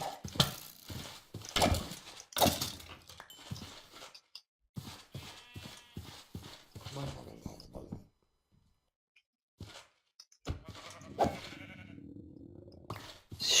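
Sheep bleat in the video game Minecraft, several short synthetic baa calls in bursts alongside clicking game sounds, with a brief silent gap.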